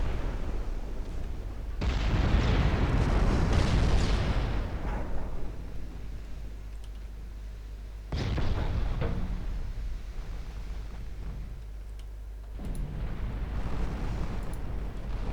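Heavy naval guns of warships in Ultimate Admiral Dreadnoughts fire in big booming volleys, two loud rumbling blasts trailing into long decays, then a third softer salvo near the end.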